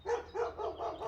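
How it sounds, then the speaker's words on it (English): Several neighborhood dogs bark in repeated bursts, about four barks in a second, moderately loud and a little distant, with no talking over them. "Sorry about the dogs in the neighborhood. They're all barking for some reason."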